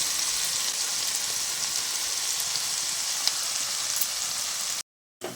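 Ground spice paste sizzles in hot oil, cooked for a soybean curry, as a steady, close, even frying hiss that runs alone without pause before cutting out abruptly near the end.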